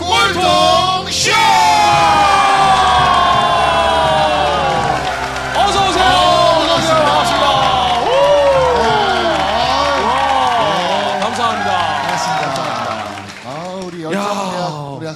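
Studio audience at a Korean variety talk show shouting, whooping and cheering loudly and continuously, a dense crowd roar that dips briefly near the end before rising again.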